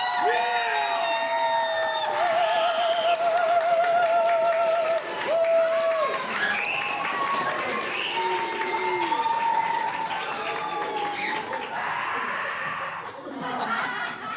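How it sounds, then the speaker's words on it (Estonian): A festival crowd at the MTF2026 jury appearance bursts into loud, sustained applause and cheering, with shrill whistles and whoops rising over the clapping. The roar stays dense throughout, and a few voices call out near the end. "teeme kõikidele ühe suure aplausi ja kisame nii, et kõrvakeeled kuulavad"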